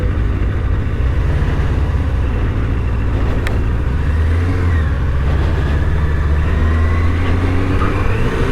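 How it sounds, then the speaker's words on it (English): A big truck passes a Yamaha FZR600 motorcycle on the road, a loud, steady roar of engine and wind noise with no talking. "big truck, I don't like big trucks."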